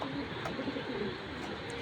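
Racing pigeon chicks, soft low cooing and murmuring sounds amid a steady background hiss, faint and close.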